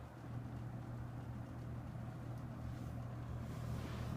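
A Superlectric Carry About box fan, new old stock, runs on its low setting with a steady low hum and broadband airy whir, continuous and unchanging throughout.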